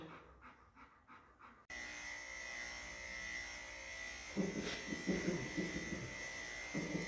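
Electric clippers buzz steadily at close range, trimming a dog's fur after a few seconds of the dog panting, with the panting continuing over the hum.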